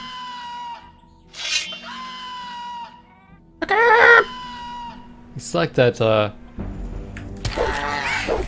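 Rooster-like cries of a juvenile Scavenger creature in the video game Gothic: several loud, shrill squawking bursts, spaced apart, with someone talking between and over them.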